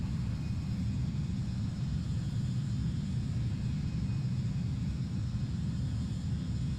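A simulated airliner, an E-Jet in Microsoft Flight Simulator 2024, gives a steady, low engine rumble that drones on without a break, with no talk over it.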